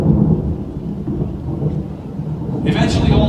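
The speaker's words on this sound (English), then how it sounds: "The rains finally fall, and new things grow." Rain comes down steadily during a storm on a prehistoric landscape, with a broad wash of downpour and rumbling thunder throughout.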